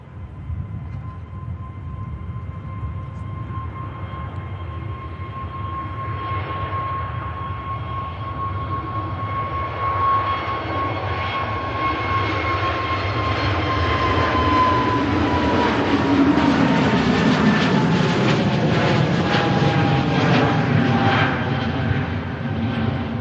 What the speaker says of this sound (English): Here goes the Neo on the return leg to Oslo.